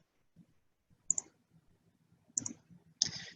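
Three crisp computer mouse clicks spaced apart in a quiet room, each a sharp close tick, the last slightly longer with a brief rattle, navigating a real estate CRM's online help menu.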